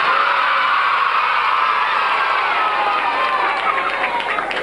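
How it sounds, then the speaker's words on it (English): Children clap and cheer loudly for themselves in a group, a continuous, even roar of clapping and excited voices with no pause, close and full. "clap for yourselves really loud and go"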